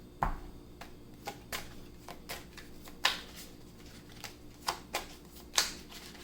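A deck of tarot cards is shuffled close by in a series of crisp riffling bursts, about a dozen sharp flicks spread unevenly over several seconds in a quiet room.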